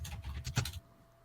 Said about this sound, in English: He heard the keyboard.